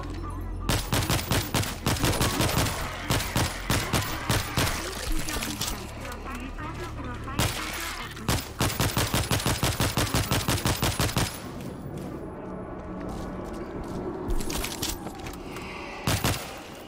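Automated sentry turrets fire in rapid staccato bursts in World War Z, sharp repeated gunshots in several volleys with short pauses, loud and close, a voice speaking between them.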